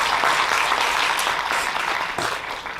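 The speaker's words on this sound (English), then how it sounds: "another applause" Audience applause after a presentation at a Sikh research summit, a dense, steady wash of many hands clapping from a large room, sustained throughout and tapering slightly at the end.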